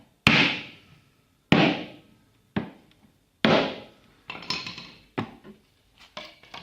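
Sharp, distinct light taps of a hammer on dowels through scrap wood, about seven in all, spaced unevenly and ringing briefly, close up with no talking.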